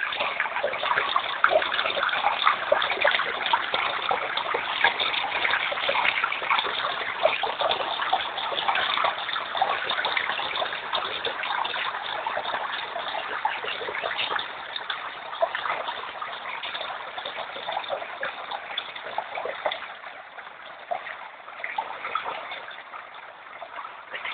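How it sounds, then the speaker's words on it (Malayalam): Tamil Nadu's largest waterfall, a steady broad roar of falling and rushing water, constant and fairly near, running alone without voices throughout. "തമിഴ്നാട്ടിലെ ഏറ്റവും വലിയ വെള്ളച്ചാട്ടം."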